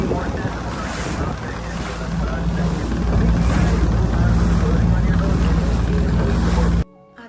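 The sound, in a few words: speed boat moving through sea waves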